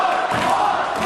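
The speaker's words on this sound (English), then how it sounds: "As the crowd starts a Juan chant." A wrestling crowd chants "Juan" in unison at an independent show, a dense, loud wall of voices filling the arena with no gaps.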